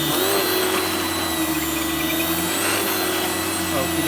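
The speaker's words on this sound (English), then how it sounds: "Powerhead's more noisy than the vacuum itself." A vacuum cleaner with a powerhead runs steadily on carpet, a loud continuous whine and motor hum filling the whole stretch at close range, with no speech over it.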